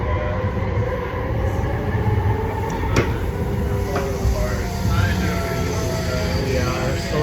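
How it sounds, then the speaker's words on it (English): Aboard a Lynx Blue Line light rail train in motion, a loud steady rumble of wheels and car noise fills the interior, with a sharp click and faint squeals over the ongoing roar and a voice talking at times. "I am on the train. The infamous Lynx Blue Line."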